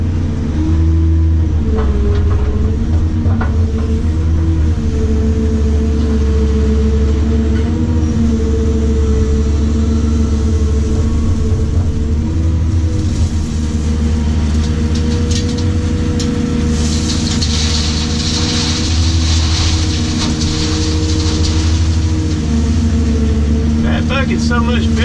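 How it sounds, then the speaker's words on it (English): A Cat 345 excavator dumps a load into a Ford L8000 dump truck, with a loud, steady diesel engine drone and rumble running the whole time and a brief swell of higher mechanical whine partway through. "Let's go dump this in here right quick."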